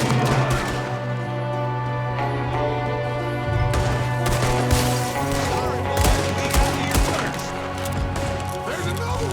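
Gunfire in Red Dead Redemption 2, with an enemy shooting from a window during a story-mode shootout, sharp shots and bursts over a musical score, with some distant voices shouting.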